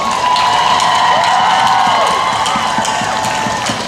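A crowd at an abortion justice rally in Chicago claps and cheers steadily, with scattered whoops and shouts rising above the continuous roar of applause.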